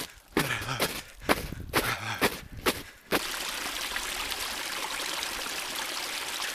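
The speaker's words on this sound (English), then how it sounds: "Like the sound of that trickling brook." Gentle brook trickling steadily and continuously on its own, close by, after a few seconds of crunchy footsteps through crusted snow.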